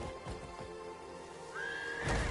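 A horse whinnies loudly near the end, preceded by soft hoof clops and a rising synthetic tone over steady game ambience.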